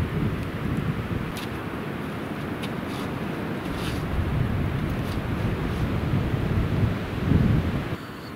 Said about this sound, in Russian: На вершине хотя ветрено